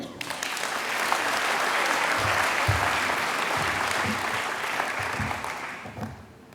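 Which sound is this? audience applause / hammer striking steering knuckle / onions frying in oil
audience applause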